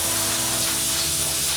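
Lacquer sprayed from a can onto a finished wooden plaque outdoors, a loud, close, steady hissing rush filling the whole short stretch with no talk.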